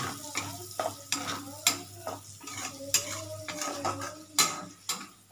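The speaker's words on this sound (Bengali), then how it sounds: "এটা হালকা লাল করে ভেজে নিচ্ছি এটাকে, ওই তেলটাতেই ভেজে নিচ্ছি।" Gobindobhog rice fries in oil while a spoon stirs it, giving repeated scraping strokes and metallic clinks against the pan over a soft sizzle, close and rhythmic, with no talking.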